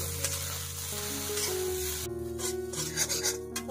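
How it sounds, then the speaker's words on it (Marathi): Grated coconut roasting in a pan with garlic and ginger for stuffed brinjal gives a soft sizzle with rubbing, scraping stirs that grow busier and more rhythmic toward the end, with no talking. "खोबरं सोनेरी रंगावर परतून घेऊया।"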